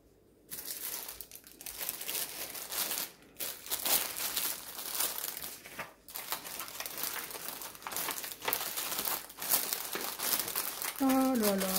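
Plastic packaging crinkles and rustles continuously as it is folded by hand at close range, with brief pauses and a short talking voice near the end.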